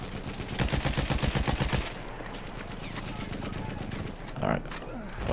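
Lewis gun light machine gun in Battlefield 1 multiplayer firing a rapid, steady burst for about two seconds, then chaotic battlefield noise with a voice speaking over it.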